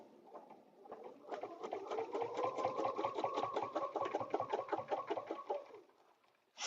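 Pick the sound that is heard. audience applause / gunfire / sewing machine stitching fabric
sewing machine stitching fabric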